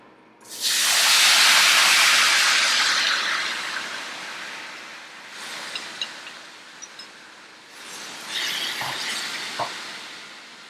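Pork bulgogi hitting a hot stainless steel pan with a loud burst of hissing sizzle that gradually settles, then swells again with a few faint clinks and stirring noises near the end.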